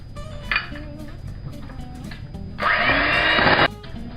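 An electric mixer whirs through cheesecake batter as eggs go in one at a time for a lime New York style cheesecake, with a brief burst early and then a loud steady run of about a second, amid kitchen clatter.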